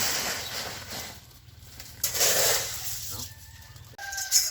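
Chickens cluck intermittently on a farm while rice seed is being soaked in cold, windy weather, with wind noise and someone talking over the birds.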